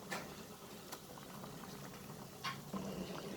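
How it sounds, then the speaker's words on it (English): Chicken gravy bubbling in a cooking pot for butter chicken, a steady low simmer of popping bubbles with a few sharper splashes, close and moderately loud with no voices. "the gravy started boiling"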